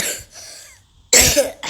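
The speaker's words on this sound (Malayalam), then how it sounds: "ചുമയാണ് കേസ്." One person coughs loudly and harshly in two bursts close to the microphone, with a short pause between them.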